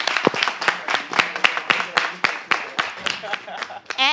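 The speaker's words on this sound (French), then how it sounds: "applaudissez pour Dieu" Audience clapping at a live show, a steady patter of individual hand claps that stays fairly close and moderately loud for several seconds, with voices faintly mixed in.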